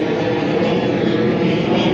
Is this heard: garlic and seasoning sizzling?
no